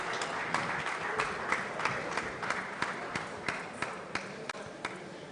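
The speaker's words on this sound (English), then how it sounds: "can we give a round of applause, please?" Applause at an employers summit in Nigeria as the planning committee is called up, a fairly soft, distant wash of clapping with occasional sharper individual claps standing out in an irregular rhythm.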